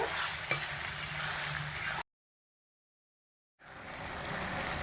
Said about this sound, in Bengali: লবণ আর হলুদ দিয়ে কচুগুলোকে ভালো করে আলতোভাবে নাড়াচাড়া করে দেব।